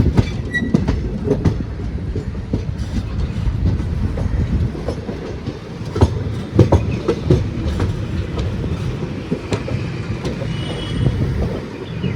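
Thrissur-Kannur Express heard from inside a general class carriage while running: a steady loud rumble of wheels on rail with rhythmic clacks and occasional faint squeals, continuous throughout with no talking.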